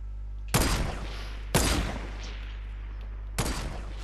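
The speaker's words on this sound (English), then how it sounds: "I'm gonna try to snipe them." Sniper rifle fired in Fortnite, three loud, sharp single cracks with decaying tails, spaced about one and two seconds apart over a low steady background hum.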